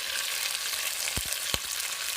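Food frying in coconut oil in a pan, a steady close hiss with a couple of brief louder sputters, no voices.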